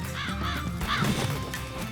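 A crow caws harshly a few times at close range, rising out of a busy, noisy background.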